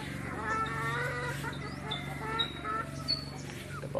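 RTL and Shamo cross gamefowl roosters in a backyard yard pen clucking and calling in brief bursts, several birds close by, with a steady low hum underneath and a few sharper calls toward the end.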